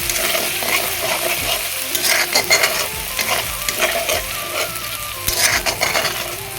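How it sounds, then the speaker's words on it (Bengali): Spice paste stir-fried with whisked sour yogurt in a pan gives off a loud, steady sizzle. Repeated scraping and clattering strokes of the spoon run over it, close and continuous. "তো এখন তাতে দিয়ে দেব ফেটানো টক দই, এই যে টক দইটা ফেটানো টক দইটা দিয়ে দেব, দিয়ে ভালো করে আর একটু কষিয়ে নেব।"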